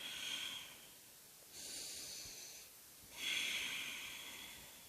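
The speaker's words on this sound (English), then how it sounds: "Breathing here for 2 more rounds." Slow, deep breaths during a cat-cow yoga stretch, three long airy hissing inhales and exhales, soft and close, with no talking.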